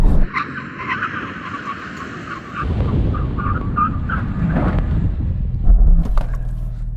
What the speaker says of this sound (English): we're going to do a brake test from 100 miles an hour